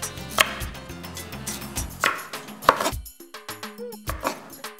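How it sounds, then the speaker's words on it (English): A knife chopping carrots on a cutting board, with several sharp, irregular knocks over about five seconds, close and clear against faint background music, with no voices. "let's chop up the carrots"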